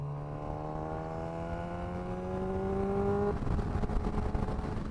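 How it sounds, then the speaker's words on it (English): A Honda CBR motorcycle revs as it passes, its engine note climbing steadily in pitch and growing louder before breaking into a rougher, noisier roar as it goes by. "Ah, it's a CBR!"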